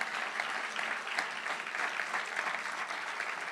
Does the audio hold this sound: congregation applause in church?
yes